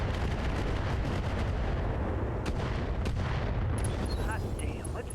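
Heavy mech weapons firing at an enemy in Battletech, a dense sustained barrage of booming shots and rumble, loud throughout with a couple of sharper cracks near the end.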